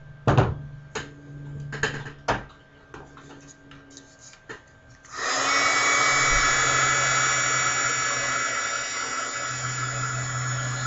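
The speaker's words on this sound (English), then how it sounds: "Get my heat gun out again, because you want to heat it." Heat gun switching on and blowing hot air, a steady loud whooshing hum that continues to the end, preceded by a few scattered clicks and taps of handling.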